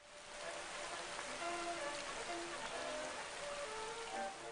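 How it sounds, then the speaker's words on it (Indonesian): Heavy rain pours down steadily through the night in a film scene, a dense, continuous hiss of drops striking surfaces with no voices, filling the whole stretch at an even, moderate level. "Kemudian Aguilar diperintah untuk memberi hormat di tengah derasnya hujan semalaman."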